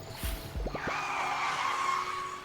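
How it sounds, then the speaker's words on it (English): Tire screech from a car in the video game Bear and Breakfast: a single bright, sustained squeal that rises and holds for about two seconds, with a few short low thumps just before it. "Tire screech."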